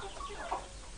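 Kadaknath chickens on a poultry farm cluck softly against a steady background hum, with one brief louder cluck near the middle of the short stretch.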